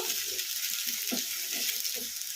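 Brinjal pieces fry on a high flame in a pan, giving a steady, close, continuous sizzle with occasional soft stirring scrapes and no one talking.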